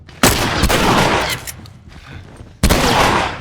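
Two loud, close shotgun blasts in a video game fight against hunters, each with a long rumbling tail, the second following more than two seconds after the first.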